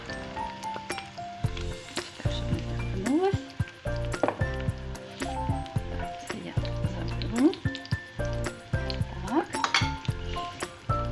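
Loud sizzling of Ukrainian chebureki pastries frying in a pan, with intermittent clinks and scrapes of cookware and utensils over the steady crackle.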